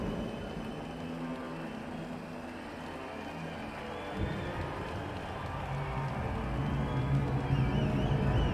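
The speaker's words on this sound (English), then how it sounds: "Crowd seems a little less lively" Crowd noise from the video game Cyberpunk 2077, a steady, fairly subdued murmur of many voices with a dense, continuous texture that swells slightly toward the end, lacking loud cheers.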